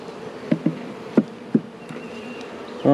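Honey bees buzz around their hive at close range, a low steady hum broken by several sharp knocks and taps.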